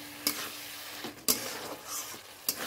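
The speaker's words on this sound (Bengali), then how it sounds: "মশলাটা কষিয়ে চিকেনটা দিয়ে দিয়েছি, আলুও দিয়ে দিয়েছি, ওটাও কষাচ্ছি" Spice paste of tomato, garlic, ginger, cumin and green chilli sautéing with chicken and potatoes in a pan, a steady low sizzle broken by a few sharp stirring scrapes, with no voices.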